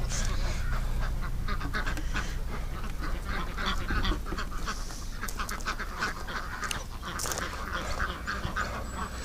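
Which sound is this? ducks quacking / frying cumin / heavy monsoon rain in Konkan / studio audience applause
ducks quacking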